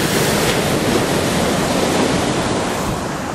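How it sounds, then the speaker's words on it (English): Indian Ocean waves break steadily on the shore in a loud, continuous wash of surf with some wind noise and no voices. "We need to wait for a big wave to come up."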